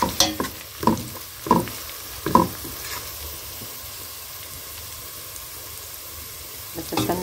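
Tomatoes go into a hot pan for stuffed intestines (mumbar) and sizzle. A few sharp stirring scrapes open the clip, then a softer steady frying hiss follows, with one more burst of scraping at the end.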